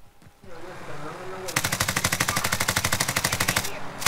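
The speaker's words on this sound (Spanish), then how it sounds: "Ya está disparando otro team." Another team fires in the video game Warzone, a loud, rapid burst of automatic gunfire lasting about two seconds that follows a few quieter shots and low background game noise.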